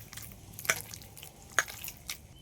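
Ripe bael fruit pulp is mashed by hand with a little water, giving soft wet squelches and two sharper squishes, close and quiet, with no talk.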